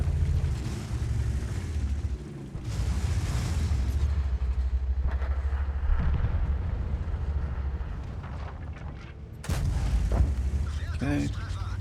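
VK 28.01 tank cannon firing APCR shells in World of Tanks, with a couple of heavy booms rising out of a constant low engine and battle rumble.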